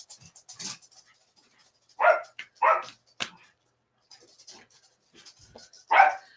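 A pet dog barks in short bursts at home, several sharp woofs spaced irregularly with quiet gaps, close and moderately loud, with faint whimpers and panting between.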